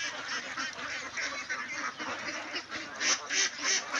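A flock of two-month-old ducks at a farm in the afternoon, quacking steadily in overlapping calls that grow louder and denser toward the end.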